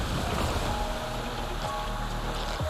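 A waterfall rushes near a pond and stone table in the Wuthering Waves game, a steady broadband wash of falling water with faint tonal game sounds layered over it.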